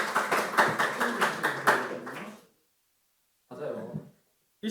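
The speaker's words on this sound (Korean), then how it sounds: "야, 박수 한번 주세요." An audience at a student gospel rally claps in a quick, steady rhythm for about two seconds, then falls silent; a brief voice follows after the pause.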